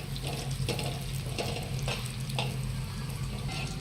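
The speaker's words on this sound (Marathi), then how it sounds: "ड्रायफ्रूट्स हे पण आपल्याला तुपात भाजून घ्यायचे आहे" Dry fruits and poppy seeds roast in ghee in a pan for modak filling, giving a steady, close sizzle with soft stirring scrapes throughout and no talking.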